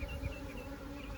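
Honeybees from an aggressive hive buzz in a close, steady drone with a few louder passes near the start, no voices.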